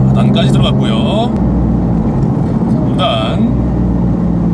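A manual Porsche 911 GT3 engine pulls hard in fourth gear with a loud, sustained roar, while someone talks over it.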